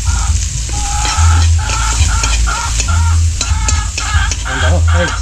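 Onion and soy sauce hitting a hot pan in a steady loud sizzle, with repeated stirring scrapes and intermittent bursts of frying noise over a constant low hum.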